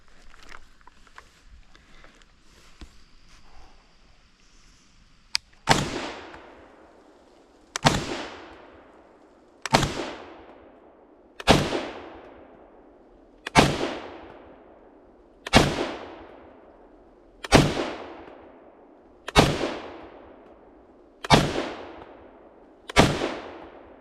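An IWI Tavor 7 bullpup rifle in 7.62x51mm NATO fires a string of ten loud, sharp shots at an even, unhurried pace, each cracking close by and ringing out briefly.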